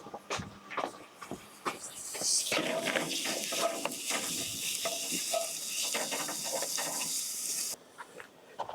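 Red onion frying in oil in a pan with a soft sizzle, while a utensil stirs and scrapes through it in irregular shuffling strokes, fairly quiet and close.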